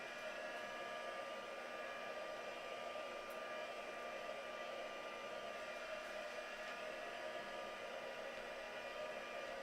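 A hair dryer blows steadily on a freshly painted background, a continuous even whoosh close by that holds level with no pauses and no talking.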